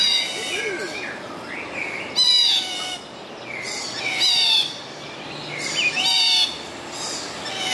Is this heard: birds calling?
yes